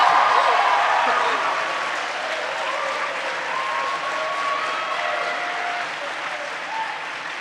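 An audience at a university debate between a University of Nebraska team and the British national team applauds and cheers for the Nebraska side, a dense steady wash of clapping with some voices that slowly eases off.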